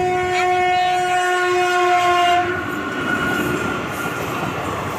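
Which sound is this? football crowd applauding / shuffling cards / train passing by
train passing by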